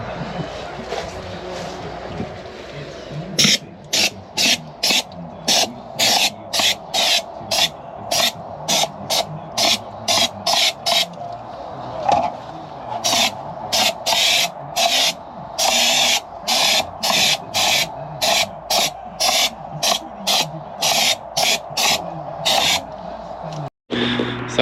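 Schutz underbody wax sprayed beneath a VW T5 Transporter during rust prevention, heard as a long run of loud, close hissing bursts in a steady on-off rhythm, each spurt a second or less, after a quieter opening stretch.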